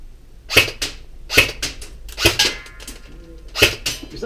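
A VFC M4 airsoft rifle fires four single shots at uneven intervals, each a sharp, close snap with a short mechanical rattle, and small handling clicks fall between them.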